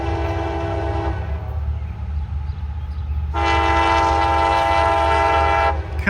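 A mixed freight train, M353, running from Chicago to Cincinnati, sounds two long horn blasts separated by a short gap. Steady rail rumble continues underneath as the train passes close by.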